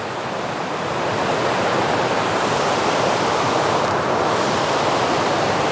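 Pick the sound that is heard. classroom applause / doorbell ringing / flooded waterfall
flooded waterfall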